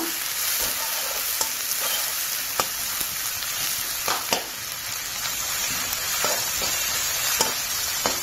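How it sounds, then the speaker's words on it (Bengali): Steady, loud sizzling of onion, ginger and garlic frying in a hot wok, with occasional scraping clicks of stirring and no talking. "কড়াইয়ে পেঁয়াজ আদা রসুন সব দিয়ে নিয়েছি, এবার ভালো করে ভেজে নেব"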